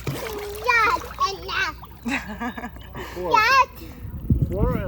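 A young child splashes in a swimming pool, the water sloshing and slapping close by under steady chatter from the child and an adult.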